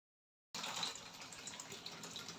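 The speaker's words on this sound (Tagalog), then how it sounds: "So gipaspasan na dayon ako og hugas og plato kay murag napuno gyud ang among banggera" Tap water gushing steadily into a kitchen sink while dishes are washed, starting abruptly after a moment of silence and running as a close, even splash with no talking.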